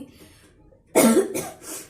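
A single harsh cough bursts out after a near-silent pause, followed by a softer trailing cough, close and fairly loud.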